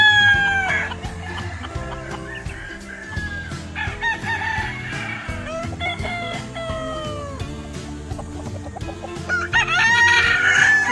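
Several gamecocks crow one after another, loud and close, with clucking hens and other fowl calling in between throughout.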